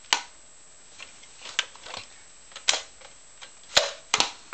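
Plastic stock snapping onto a Recon toy blaster, a series of sharp, separate clicks and clacks with quiet gaps between them, close and distinct.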